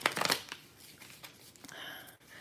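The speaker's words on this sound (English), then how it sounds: "but I'm going to shuffle them once more." Tarot cards are shuffled by hand in a few quick, crisp riffles and slides close to the listener, loudest at the start and then settling into softer handling.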